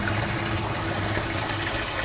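Water poured into funnel cake batter, a steady close splashing trickle that runs without pause and is not under talk.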